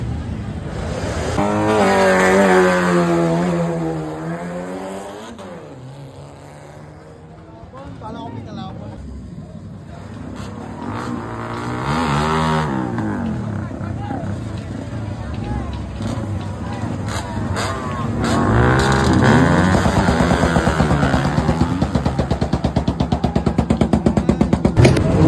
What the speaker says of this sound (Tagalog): Tanging maririnig mo ay ingay ng mga sasakyan at usok